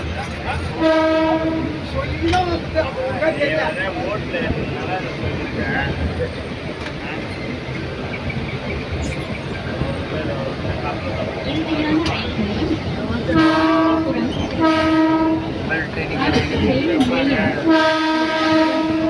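A train roars past close by, with repeated horn blasts sounding at intervals over the rumble and rattle, and people talking.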